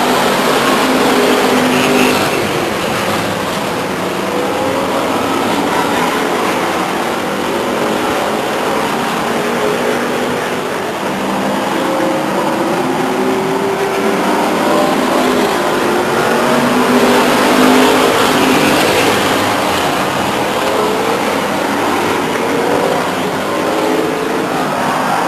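Stock cars race at Stockton 99 Speedway, their engines blending into a loud, continuous roar that rises and falls slightly as the pack circles, with a race announcer talking over the noise.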